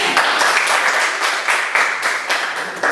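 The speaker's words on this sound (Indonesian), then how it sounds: "tepuk tangan untuk kelompok yang sudah" A class claps for a student group, a burst of applause with rapid overlapping hand claps, fairly loud and close, continuing steadily with a few sharper claps standing out.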